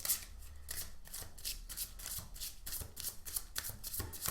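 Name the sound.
shuffling telepathy oracle cards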